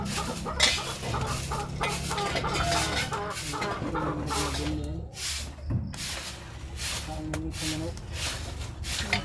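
Chickens clucking nearby at a home birthday gathering, repeated short clucks and calls mixed with people talking over them throughout.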